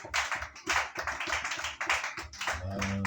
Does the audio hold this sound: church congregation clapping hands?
yes